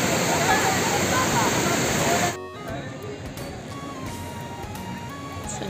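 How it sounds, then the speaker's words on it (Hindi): The Indrayani river pours over the Kundamala falls near Talegaon, a loud steady rush of water that drops abruptly to a softer, nearer flow of splashing and trickling. "ये है इंद्रायणी नदी।"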